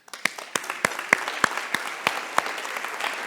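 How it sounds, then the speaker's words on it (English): Audience applause at an annual meeting welcome session, a burst of clapping hands filling a room and holding steady throughout, with sharp individual claps standing out over the dense wash. "give yourselves a round of applause"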